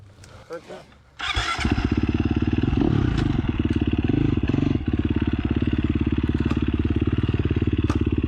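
KTM 350 SX-F dirt bike fires up and then revs steadily nearby with a fast, even engine pulse, mud riding setting, with brief talk before it starts.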